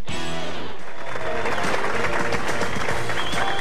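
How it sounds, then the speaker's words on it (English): Crowd cheering and applauding at the final match of the 1997 PBA Greater Detroit Open bowling tournament in Taylor, Michigan, a loud, sustained roar of voices and clapping that swells after a short lead-in. "They're cheering here in our final match at the Greater Detroit Open in Taylor, Michigan."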